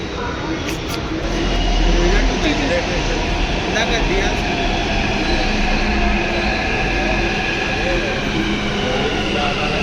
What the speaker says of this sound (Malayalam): നമ്മുടെ മെട്രോ വന്നു ഗൈസ്.